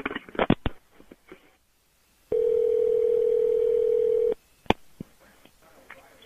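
A telephone dial tone sounds after a caller hangs up, a steady unbroken hum lasting about two seconds, with brief clicks and faint phone-line noise before and after it.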